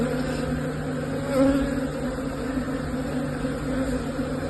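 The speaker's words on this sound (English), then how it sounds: "You might be able to see just here the bees doing a waggle dance" Honey bees swarm over a brood frame lifted from a hive, producing a dense, steady buzzing drone that stays loud and close throughout without pause, with no voices.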